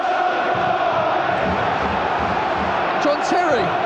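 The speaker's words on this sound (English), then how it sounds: "Well, the crowd have come to their feet." A football stadium crowd at a Spurs versus Chelsea cup semi-final rises to its feet, a dense sustained roar of cheering and chanting with a commentator talking over it.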